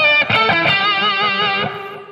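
An electric guitar with a distortion effect plays a short lick from the carol Little Drummer Boy: a loud, bright picked attack rings into a bent note that sustains and fades.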